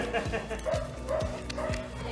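Dogs aboard a dog training center's pup bus bark in a quick rhythmic series of four sharp barks, close and loud, with a busy background murmur.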